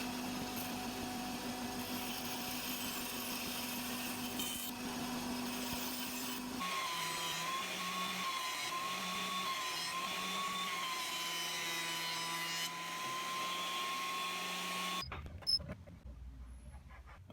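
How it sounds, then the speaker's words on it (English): A bandsaw trims glued wooden photo frame pieces, a steady close motor whine with the blade's cutting tone shifting as the wood feeds through, ending in a few clunks as the saw stops. "So I'll use the bandsaw, get them pretty close to the surface"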